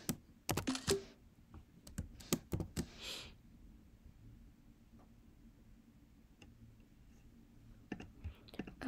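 Computer keyboard typing while writing code: a quick flurry of close key clicks at the start, a quiet pause, then a few more scattered keystrokes near the end, with no speech.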